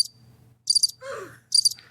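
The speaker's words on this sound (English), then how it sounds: "Crickets." A cricket sound effect from a soundboard plays as a few bright, rhythmic chirp bursts spaced apart, with a faint squeaky call and low background hum between them.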